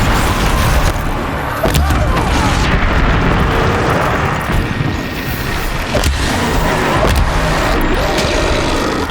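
An enemy shooting fire in Horizon Zero Dawn Frozen Wilds, a loud continuous roaring blast with booming bursts throughout.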